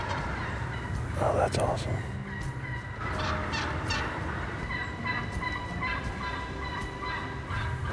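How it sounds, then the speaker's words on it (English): Wild turkeys gobble close by before full daylight during a fall shotgun-season hunt in western Kentucky, with several loud rattling gobbles over an outdoor background and a person speaking softly. "we've got a gobbler right in our face."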